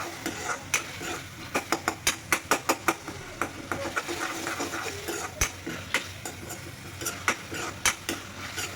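A spiced mixture sizzles as it is sautéed in a pan, under a steady hiss with a spoon scraping and clanking against the metal in quick, irregular bursts, close and alone.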